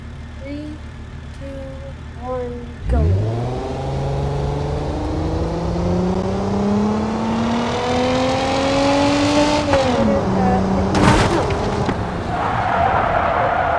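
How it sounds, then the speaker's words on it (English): Engine of a 6x6 Bullet vehicle driving in BeamNG.drive, starting up around three seconds in and then revving steadily and rising in pitch, with a loud, continuous engine drone that dips briefly before climbing again. "So now our next vehicle is a 6x6 bullet."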